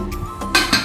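A vessel of dal placed inside a pressure cooker gives two short metallic clinks close by, about a fifth of a second apart.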